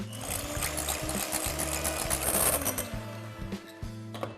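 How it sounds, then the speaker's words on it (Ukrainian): An electric mixer whips egg white with a pinch of salt, giving a steady buzzing whir with rattling beater knocks against the bowl, close and loud, pausing briefly near the end. "Білок зараз просто зіб'ємо з дрібкою солі"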